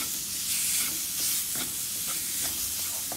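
Minced meat (keema) fried in a little oil while a spoon turns it: a soft, steady sizzling hiss with gentle periodic scraping strokes, close and without voices.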